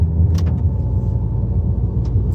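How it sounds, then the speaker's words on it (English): Steady low rumble of a car engine and road noise heard from inside the moving vehicle, loud and continuous, with a couple of faint brief clicks or knocks over the drone. "We're in a car right now"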